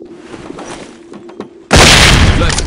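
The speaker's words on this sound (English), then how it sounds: "Deploying bang." Flashbang grenade detonating in the video game SWAT 4, a sudden loud blast that cuts in after a brief stretch of quieter game sounds and lingers as a dense ringing roar.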